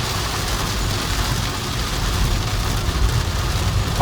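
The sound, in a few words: heavy rain during a drive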